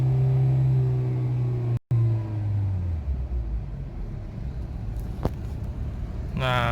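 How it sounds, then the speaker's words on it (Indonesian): A Kia or Hyundai automatic car engine revving hard in neutral, held at a loud, steady drone, then the pitch falls as the revs drop back to a rumbling idle, with a brief cutout and a click near the end. "kita hidupin dan kita gas di RPM 3000 sampai 4000, posisi netral sekali lagi"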